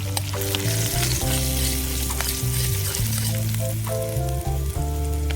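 Turmeric, cinnamon, cloves, bay leaves and curry leaves sizzling in hot oil for a palak aloo paratha filling: a continuous loud frying hiss under steady background music, with no talking.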